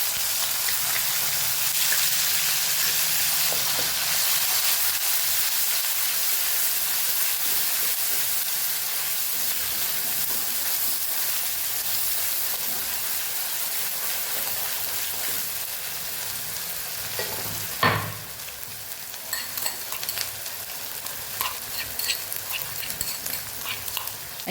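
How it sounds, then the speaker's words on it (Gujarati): Onions sauté in a pan with a continuous crackling sizzle, interrupted midway by a sharp clack and then scraping stirring strokes that stay close and steady to the end. "અહીંયા આપણે હવે ડુંગળી પણ સાતળી લઈશું।"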